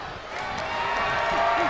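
Crowd noise at a wrestling match in the video game WWE 2K25, a steady roar of cheering that swells slightly as it goes, with a commentator's voice over it.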